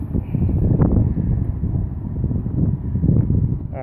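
Wind buffets the microphone of a DJI Phantom 3 Professional drone flying at full throttle into a headwind outdoors: a steady, loud, low rumbling roar that keeps going without a break and has no voices.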